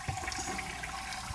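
A toilet flush sound effect gives a short, close rush of swirling water that runs steadily for about a second and a half, with no talk over it.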